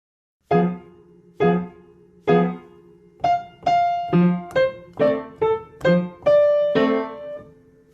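Piano plays a short bouncy phrase from Joplin's Maple Leaf Rag with both hands, three spaced chords followed by a quicker run of notes, clear and close with no talking.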